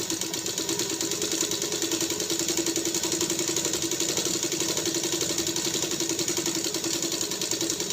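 An electric sewing machine runs continuously during a tailoring lesson, a steady close mechanical whir with a fast, even stitching pulse that never pauses across the whole stretch, with nobody speaking.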